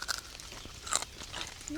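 Crunchy bits of roasted wild boar fat are chewed at a jungle campsite in Hawaii, giving a few close, brittle crunches and bites over about two seconds against quiet outdoor background noise.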